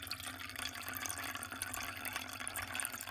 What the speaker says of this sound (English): I just stick my tin cup underneath here. And fill up my cup for cooking or whatever.